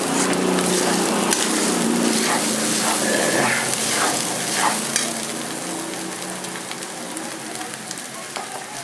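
Eggs frying and being scrambled in a hot pan, salted and stirred until crumbly: a loud, close, continuous sizzle with scraping and stirring strokes throughout, and no voices.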